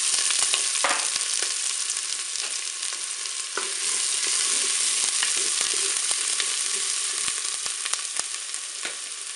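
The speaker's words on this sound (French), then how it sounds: "mon huile est chaude, je vais pouvoir mettre mes oignons" Onions fry in hot olive oil inside a Cookeo multicooker, a steady bright sizzle running the whole time with scattered pops and crackles close by, no voices.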